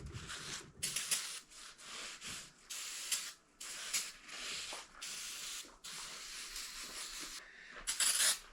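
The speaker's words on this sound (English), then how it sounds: "This is actually mass airflow sensor cleaner." Mass airflow sensor cleaner is sprayed onto the fins of an engine in repeated close bursts of hissing aerosol, each lasting about a second, with brief gaps between them and no talking.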